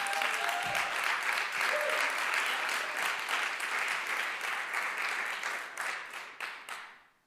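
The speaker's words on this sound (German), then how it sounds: "Können wir einen Applaus Jesus geben?" A church congregation applauding during a sermon, sustained dense clapping that holds steady, then thins and fades out toward the end, with faint voices mixed in.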